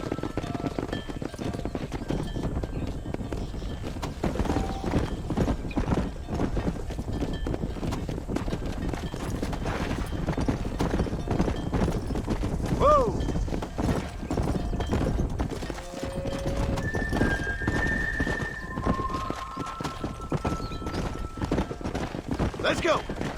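Horse hooves pound in a steady gallop across open ground in the Red Dead Redemption video game, a dense, continuous clatter with outdoor ambience and occasional voices.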